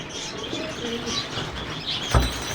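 Soft cooing of Sherazi pigeons in low repeated phrases, with a few faint chirps and a brief thump of wings near the end.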